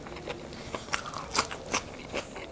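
A crunchy bite of raw onion eaten alongside a piece of mutton from a bhindi mutton dish, heard as a few close, crisp crunches and chewing scrapes over about two seconds, with no talk.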